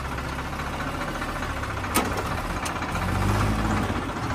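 A tractor engine runs steadily at idle close by, a continuous low rumble with a brief sharp knock partway through and a slight swell in loudness near the end; no one speaks.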